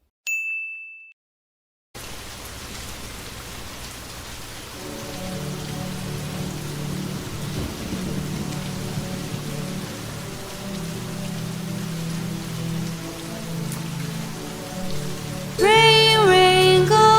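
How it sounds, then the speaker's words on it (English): Steady rain pattering on a surface, loud and unbroken for most of the stretch, opening with a short high chime and ending with bright melodic tones layered over the downpour; no thunder stands out. "Rain, rain, go away"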